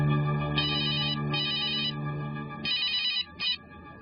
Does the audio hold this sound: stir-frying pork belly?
no